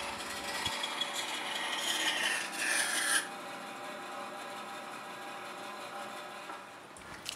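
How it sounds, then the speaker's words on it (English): Steady rasping scrape of adhesive-backed sandpaper on a wooden block rubbed over wood for a chest of drawers, close and continuous, with a brief louder burst of strokes early on before settling. "wrap adhesive back sandpaper to the cutoff piece and use it as a sanding block"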